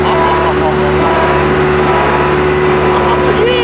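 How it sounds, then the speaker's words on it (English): A road roller's engine revs up loud and close, a steady droning roar with a rising tone over a few seconds, with no gaps. "Oh, it's revving up."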